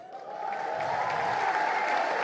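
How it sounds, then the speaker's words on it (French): A festive evening crowd applauds an award recipient, a dense wash of clapping that swells in the first half-second and then holds steady and loud to the end, with no talk. "On peut l'applaudir"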